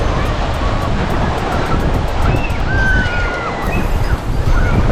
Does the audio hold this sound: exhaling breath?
no